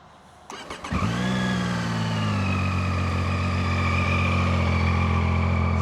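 A Zontes ZT703-F triple-cylinder motorcycle cranks briefly with a few sharp clicks, then catches and settles into a smooth, steady, throaty exhaust idle, recorded close and continuous with no talking.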